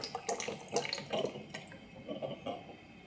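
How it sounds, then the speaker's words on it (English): Liquid pours from a soft plastic container through a 3D-printed spout cap with a liquid tube and air inlet, giving close, uneven splashing and trickling bursts with brief gurgles. "you can pour it directly into a smaller container without spilling"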